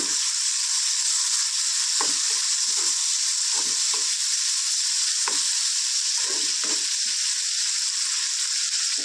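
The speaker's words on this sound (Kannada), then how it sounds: "ಟೊಮೆಟೊ ಫುಲ್ಲು ಸ್ಮ್ಯಾಶ್ ಆಗೋ ರೀತಿ ಫ್ರೈ ಆಗಬೇಕು ಸಾಫ್ಟಾಗಿ ಫ್ರೈ ಆಗಬೇಕು" Tomatoes frying with salt in a pan make a constant bright sizzle, with scattered stirring scrapes and soft knocks throughout and no voices.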